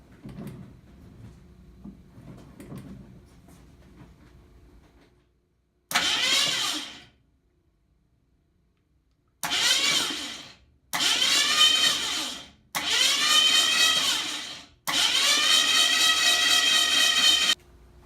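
A 1966 Ford Mustang engine cranks over in several loud, close bursts, each spin-up separated by short pauses after a quiet lead-in, with the final attempt running longest.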